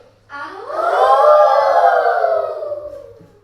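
A child mimics a wolf howl when asked to name an animal, a single voiced howl that rises, holds and slowly falls over about three seconds, loud and close.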